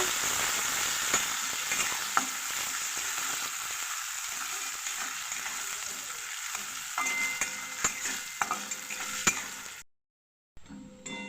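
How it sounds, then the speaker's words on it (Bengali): Chopped onion frying in a pan for a paneer and peas curry, a steady close sizzle with occasional scrapes and clinks of stirring, running alone until it cuts out near the end. "পেঁয়াজ কুচি দিয়ে দেবো পেঁয়াজটা আমি হালকা করে ভেজে নেব"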